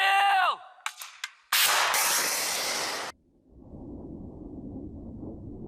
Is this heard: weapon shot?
yes